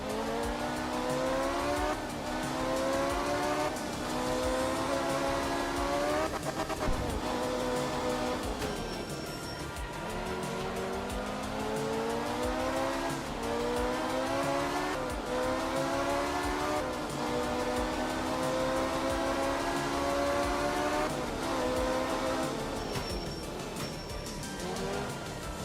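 A La Wedge rally car races through stages in a video game, its engine climbing and dropping through repeated high-pitched revs and gear shifts that continue without a break, with faint tire noise underneath.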